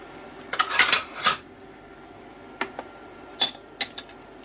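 A metal spoon clinks and scrapes against a pot of pumpkin and millet porridge in a few short bursts, then several sharper taps after a pause.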